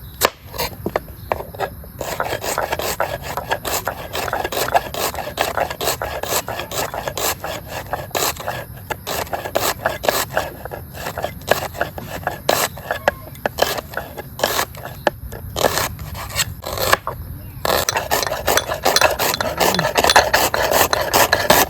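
Onions are sliced with a knife in a home kitchen, giving rapid rhythmic scraping chops on a board that come close and steady throughout.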